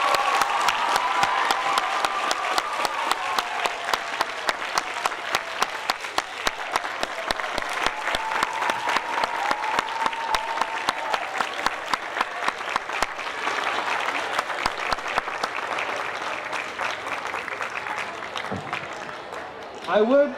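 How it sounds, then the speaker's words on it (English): A big round of applause fills a room at a school awards night, honoring student award winners; dense steady clapping from a large audience runs for about twenty seconds at fairly close range, fading slightly near the end. "if we can get a big round of applause for all of our award winners today"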